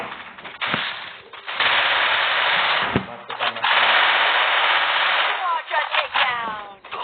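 Automatic MP5 gunfire in a Marathi-commentated battle royale game, sustained bursts of rapid shots with short gaps, loud and close, mixed with game sound and heard under a man's speech.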